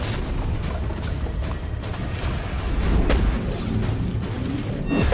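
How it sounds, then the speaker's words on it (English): Heavy booming impacts from a charged rune strike smashing an ogre's armor in the action game Extinction, a dense, loud rumble with repeated thuds and crashes across the whole span. "This is done via a powerful charged-up rune strike."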